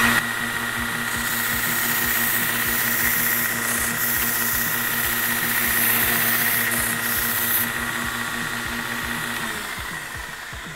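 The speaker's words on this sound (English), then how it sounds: "it makes it real easy to be able to lay on a platen on a grinder" Belt grinder working several metal brackets at once on the platen, a loud steady whine with a humming motor underneath, sustained for about ten seconds and then easing off near the end.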